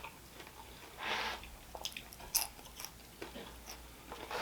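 Crunchy Doritos-coated Thai chili chicken wings from Buffalo Wild Wings being chewed close up, a few soft crunching bites with brief quiet pauses between them.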